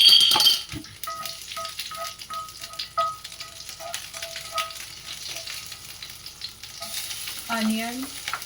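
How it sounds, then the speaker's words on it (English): Mustard seeds and green chilies fry in hot oil for a breakfast dish, with a steady crackling sizzle, scattered popping and a few stirring knocks, heard alone and up close. "I am adding mustard seeds, then green chilies,"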